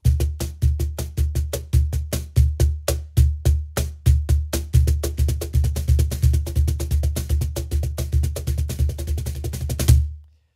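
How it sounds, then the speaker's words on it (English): Cajon bass roll phrased in triplets, deep bass thumps mixed with sharp left-hand slap tones in a fast continuous groove, close and loud for about ten seconds before stopping abruptly. "if you put that into kind of a triplet where I put in a slap tone on my left hand"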